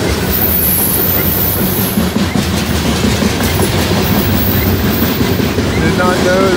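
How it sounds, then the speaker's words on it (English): A Union Pacific locomotive hauls a train past at close range, a loud continuous rumble with rail clatter and faint wheel squeal running steadily throughout. "Did not know that that locomotive was even around."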